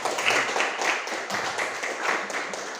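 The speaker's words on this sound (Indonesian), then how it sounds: "kasih tepuk tangan" An audience in a classroom lesson on the pillars and conditions of marriage gives steady applause, with dense, continuous clapping of moderate loudness lasting throughout and no voices.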